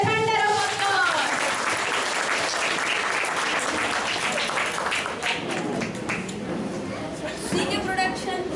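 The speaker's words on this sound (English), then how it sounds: "Give them a thunder of applause." An audience applauding children at a school stage event, sustained dense clapping from a crowd filling the whole stretch, with a voice speaking over it at the start and some background chatter.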